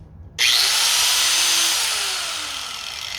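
A handheld metal grinder is switched on after a moment of quiet, jumping straight to a loud, high, whining motor roar that holds steady nearby and eases slightly as it spins.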